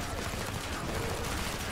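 Rapid bursts of automatic gunfire from a weapon in the Zombie Killing Simulator video game, loud and continuous throughout, with dense rattling shots and a faint voice underneath.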